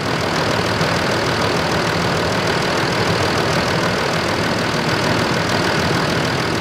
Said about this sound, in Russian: А двигатель стал работать мягче.